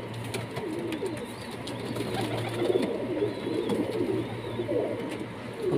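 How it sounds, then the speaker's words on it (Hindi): Pigeons in a pigeon loft in Saudi Arabia coo in soft repeated rolling calls, several birds overlapping over a steady low mechanical hum, with light fluttering and scraping nearby. "दोस्तों कबूतर नाश्ता कर दें"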